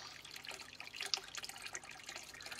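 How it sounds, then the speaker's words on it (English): Water runs out of a 2-inch garden pond overflow pipe with mesh over it and down into a drain, making a faint, uneven trickling and splashing that continues throughout. "when the pond overflows, the water runs down there and into a drain"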